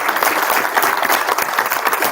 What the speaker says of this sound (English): So that's another round of applause.